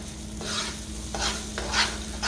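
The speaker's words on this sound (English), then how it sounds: "keep stirring and frying it in the oil" A steady oily sizzle from a pan with repeated scraping strokes of a spoon stirring through thick Guyanese-style chicken curry frying in oil, close by and fairly quiet.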